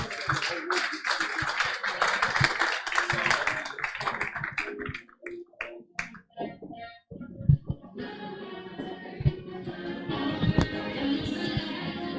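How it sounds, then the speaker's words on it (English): Audience applause at a professional summit session as speakers walk on stage, a dense, loud clatter of many hands for several seconds that thins into scattered claps and fades into room noise. "let's give a big round of applause to our speakers and welcome them on stage"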